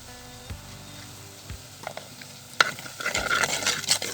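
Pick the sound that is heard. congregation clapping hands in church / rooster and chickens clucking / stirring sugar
stirring sugar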